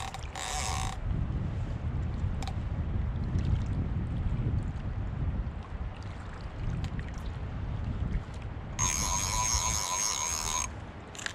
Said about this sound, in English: So you hear the clicker there.